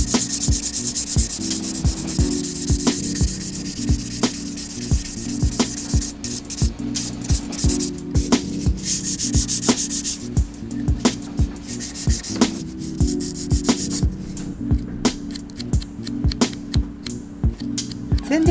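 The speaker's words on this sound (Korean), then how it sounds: "샌딩 하면서 이제 프리즈 밑에 아래 손톱 아랫부분에 있는 먼지도 다 제거해 주시고요." A gel nail extension being sanded with a buffer, a close, scratchy rhythmic rubbing in repeated strokes, loud and steady with short pauses between passes.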